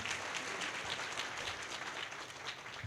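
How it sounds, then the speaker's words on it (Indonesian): Audience applause at a success-tips seminar, a steady wash of many hands clapping throughout, moderately loud and continuous with no talk over it. "silakan kamu tepuk tangan"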